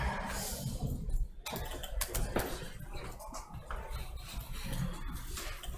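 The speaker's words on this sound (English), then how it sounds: "I'm just waiting for the typing to stop." Students in a lecture hall typing notes on computer keyboards, a dense, steady clatter of many keys from several people at once, filling the room at moderate level.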